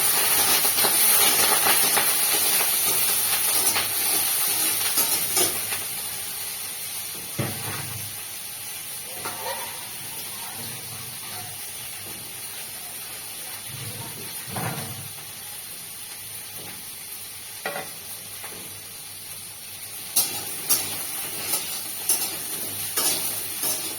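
Potatoes frying in oil, loud sizzle and hiss at first that settles to a quieter simmer, with occasional stirring knocks and clatters toward the end.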